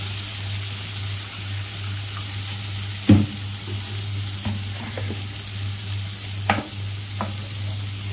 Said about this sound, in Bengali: মশলা ধোয়ার জলটা দিয়ে দিলাম।